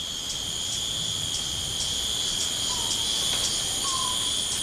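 Insects chirp steadily in the canopy of the Brazilian rainforest, a constant high shrill drone with rhythmic pulsing, joined by a few faint distant calls.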